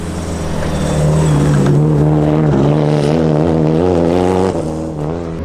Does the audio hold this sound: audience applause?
no